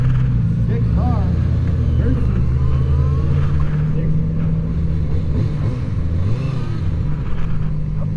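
A Kawasaki ZX-4RR motorcycle engine drones steadily while being ridden, loud and close with wind rush, its pitch wavering slightly as the throttle shifts, under a voice.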